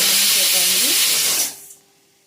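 A pressure cooker cooking dal lets out a loud, sustained steam hiss that cuts off after about a second and a half, leaving quiet room tone.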